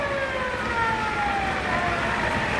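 A 1988 Lifeline Type 3 modular ambulance from Sioux Valley Memorial Hospital sounds its siren, a steady wailing tone gliding downward over continuous road and crowd noise at a town centennial parade.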